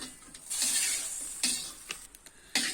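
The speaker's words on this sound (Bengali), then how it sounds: "এখন আমি পুঁই শাকগুলো ভালো করে ভেজে নিব।" Malabar spinach (pui shak) fried in a pan for a vegetarian chorchori, with a steady close sizzle broken by several scraping stirs of a spatula against the pan.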